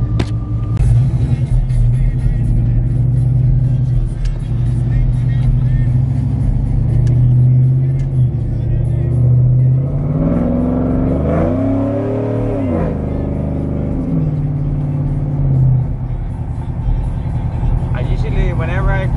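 A recently upgraded truck drives alone on a night spin, its engine rumbling low and steady, then revving up and down in a few pulses midway before settling back to a loud, close cruise.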